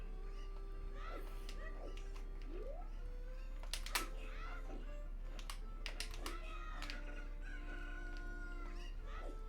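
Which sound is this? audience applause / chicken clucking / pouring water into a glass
chicken clucking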